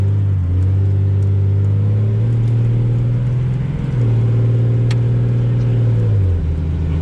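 A bone-stock second-generation Cummins 12V diesel truck accelerates hard on a quarter-mile pass, heard from the cab as a loud, droning engine roar that climbs, then drops briefly with each shift, with no talk.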